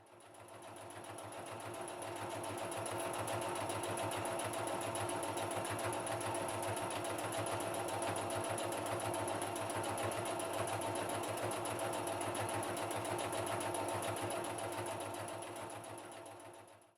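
A sewing machine stitches through a whole cloth quilt panel, its rapid, even mechanical whir rising from a start, running steadily for over ten seconds, then trailing off, with no talk.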